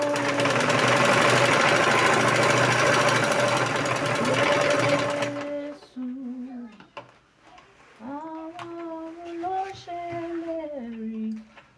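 A sewing machine runs steadily and loudly for about five seconds while stitching a dress, with a tonal whirring hum, then stops; a voice talks over quieter sounds afterward.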